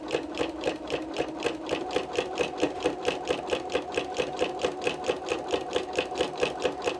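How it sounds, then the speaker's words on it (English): A sewing machine quilting a spiral square with a walking foot, running at a steady pace with a rapid, even mechanical chatter of repeated stitch beats, loud and close with no talk. "So I'm just going to stitch right off and be done."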